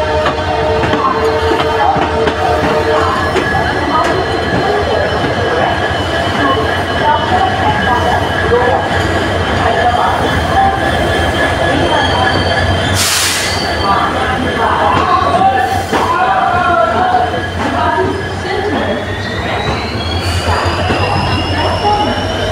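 A train rolls into Guwahati station with steady wheel rumble and clatter, a squeal of brakes or wheels and a rising whine near the end, with people talking nearby throughout.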